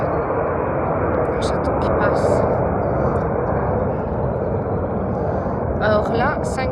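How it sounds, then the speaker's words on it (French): An airplane passes overhead as a broad, steady roar that swells slightly and then fades, while someone talks intermittently over it. "Il y a des avions."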